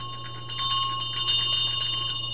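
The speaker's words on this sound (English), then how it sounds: "I usually ring the bell 9 times when I cast my circle" A small altar bell rings with a bright, sustained metallic tone, struck several times in quick succession so each ring overlaps the last.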